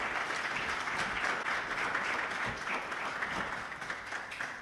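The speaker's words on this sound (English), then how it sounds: "Can you please everyone give a warm round of applause to Joshua and welcome him to ToorCon." A conference crowd at ToorCon, a hacker security event, breaks into applause for a speaker, a steady wash of many hands clapping, fairly soft and distant, with no voices over it.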